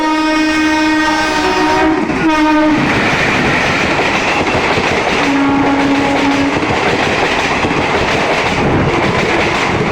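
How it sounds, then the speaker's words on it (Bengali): A long-distance train bound for Sealdah rushes through platform one of Badkulla railway station. It is loud and close, with a sustained horn blast at the start and another later, over a continuous rumble and clatter of wheels. "কীভাবে ধুলো উড়িয়ে বেরিয়ে গেল ট্রেনটি"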